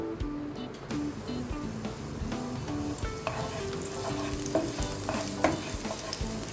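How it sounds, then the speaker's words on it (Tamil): Finely chopped garlic frying in melted butter for a mushroom starter, a continuous close sizzle with frequent stirring scrapes and light clinks, no talk. "நல்லா ஃப்ரை ஆகட்டும்."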